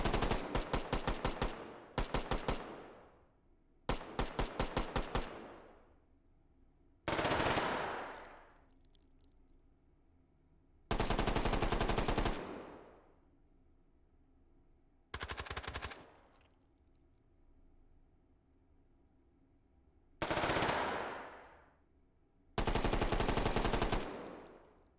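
Bursts of automatic gunfire in the VR game Hot Dogs, Horseshoes & Hand Grenades, loud and close, coming in about eight separate volleys with short pauses between them and no talking.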